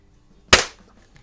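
A Gamo Expo compact spring-piston air rifle fires once: a single sharp, close crack that decays quickly into quiet.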